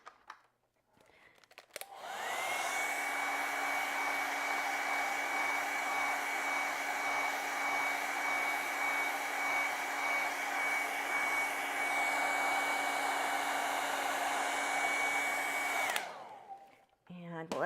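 A hair dryer drying acrylic paint on a canvas switches on and runs at a loud, steady whine and rush of air for about fourteen seconds before cutting off, with no talking over it.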